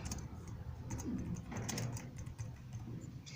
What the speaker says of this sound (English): you open it up, and then you start typing it out